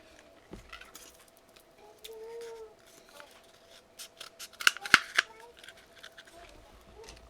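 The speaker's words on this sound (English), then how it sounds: "So what I've done, I've cut open a toilet roll." Scissors snip through a cardboard toilet roll, a few soft crisp cuts followed by a brief cluster of sharper clicks and rustling, quiet and close in an otherwise calm room.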